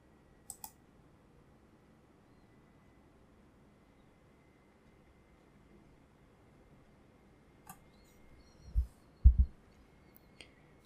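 Computer mouse clicks while launching Visual Studio on a PC: a few isolated sharp clicks scattered across a quiet background, with a couple of closer, louder clicks near the end.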